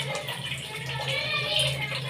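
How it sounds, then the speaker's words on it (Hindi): A kitchen tap runs continuously while lentils are cooked, giving a steady splashing hiss of water, close and fairly loud, with some faint background voices. "पानी की आवाज़ आ रही है मुसलसल।"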